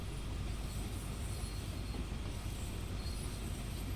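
A freight train in Train Sim World 2 strains to get moving, a dense steady rumble of wheels and cars with metallic squeal and clatter, continuous and loud with no voices.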